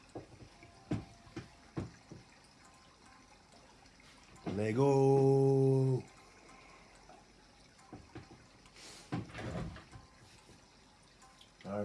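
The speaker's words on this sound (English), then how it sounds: "we got the water flowing" Water running from a tap in a short steady burst lasting about a second and a half, fairly loud against a quiet room with scattered knocks and clatter before and after; a voice speaks briefly.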